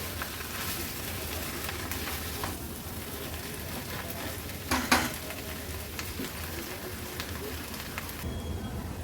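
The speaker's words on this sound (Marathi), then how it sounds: "आता गॅसची फ्लेम लो टू मीडियम वर ठेवून हे गूळ छान एकजीव करून घेऊया ह्या चण्याच्या डाळीमध्ये" Jaggery stirred into a chana dal puran filling in a pan over a low-to-medium gas flame, a soft continuous scraping and sizzling with a brief louder clatter of the spoon midway.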